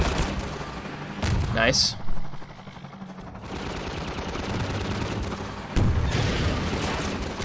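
Gunfire in Half-Life 2, several close, punchy shots and bursts interleaved with a player's brief spoken comments, then a sustained rumbling background of combat.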